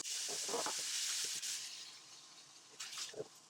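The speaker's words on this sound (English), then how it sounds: "I've been frying this down now for a further 4 minutes" Chicken karahi sizzles and fries in a pan, a steady hiss with occasional stirring clatter, heard fairly close and quiet, with no talking.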